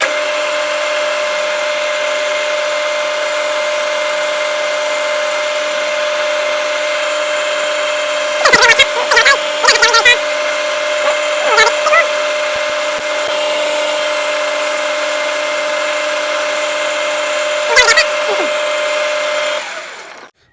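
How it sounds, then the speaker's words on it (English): A metal lathe runs steadily with a constant tonal whine as a boring bar takes a light facing cut and bores out a small whistle part, with brief scraping cutting bursts over the motor hum. "we've got the boring bar in, we're going to take a light facing cut off here, and then we're going to bore this out to 21 mil"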